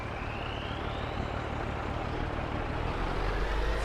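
Lizard 379 semi-truck in Farming Simulator 22, its engine a steady, loud, close diesel drone with a rising whine, running continuously with no one talking.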